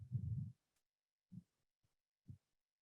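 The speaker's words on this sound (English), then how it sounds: "Noticing your heartbeat." A slow heartbeat heard as a few deep, muffled thumps spaced about a second apart, close and quiet against near silence during a guided nature meditation.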